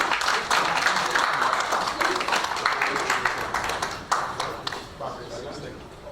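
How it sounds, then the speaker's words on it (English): An audience at a Gambian television awards event applauds, a dense burst of clapping that thins and fades into scattered claps, with a voice speaking over it. "Ladies and gentlemen, give him a round of applause"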